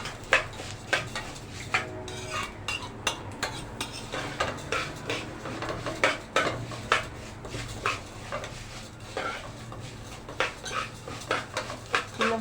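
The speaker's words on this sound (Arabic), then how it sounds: "اهو هنحمر بقى الشعريه حلو" Vermicelli being fried and stirred in a pot, with repeated metallic scrapes and clinks of a utensil against the pot over a steady low background hum, fairly close.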